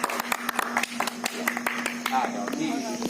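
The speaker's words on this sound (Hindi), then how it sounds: "ताली मारो।" Clapping from a small group at a Hindu house-warming ceremony, a run of sharp, uneven claps over a steady background tone, with people talking and chanting throughout.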